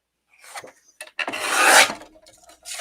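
Scissors cut through cardstock swatches for crafting, giving a few short close snips followed by one longer rasping cut, crisp and alone.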